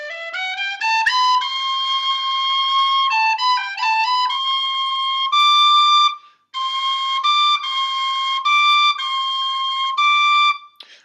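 A Kerry Killarney D tin whistle plays C natural among a run of clear, bright notes, some sliding and some held, with short breaks between phrases and no talking.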